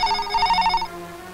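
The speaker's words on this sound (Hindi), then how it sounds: "ये जरूर उसी का फोन है।" A telephone bell rings in a steady trilling burst, close and clear, then stops, leaving a faint hum.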